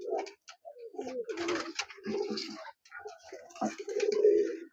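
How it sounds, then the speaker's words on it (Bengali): An old pair of Giribaz pigeons, a rare high-flying breed, coo in low rolling bursts that repeat close by through the whole stretch. "দেখুন একদম পুরনো একজোড়া গিরিবাজ পায়রা।"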